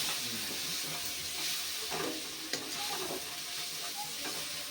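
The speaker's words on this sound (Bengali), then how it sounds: "এবার নুন হলুদ টমেটো দিয়ে ভালোভাবে নেড়ে নিয়েছি" Potatoes stirred in a pan with salt, turmeric and tomato for a Bengali aloo tarkari, a steady soft sizzle with scraping spoon strokes throughout, close and moderately loud.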